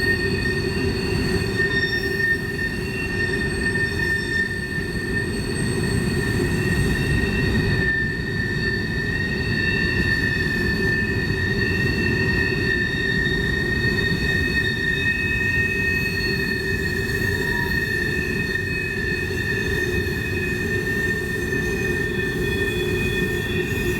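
A westbound coal train rolls around Horseshoe Curve, its wheels squealing in continuous high-pitched tones over a steady low rumble of railcars, loud and close throughout.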